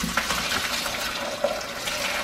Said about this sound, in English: I'm just going to carefully pour that through here to strain out the solids